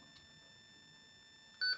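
A Retevis GMRS radio keypad gives a single short electronic beep near the end, after a quiet stretch of faint background hum.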